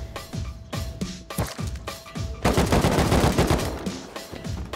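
Video game gunfire crackles in close, loud bursts: a few separate shots first, then a dense stretch of rapid automatic fire with overlapping reports, alone without talking.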